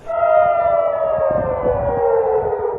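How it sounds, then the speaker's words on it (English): A loud air raid siren wails continuously over an Israeli city on alert during missile attacks, its pitch slowly falling, with no other sounds over it. "Sirens wailing, with Israeli cities now on high alert."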